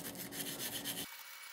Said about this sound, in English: take a wire brush and scrape off any of the excess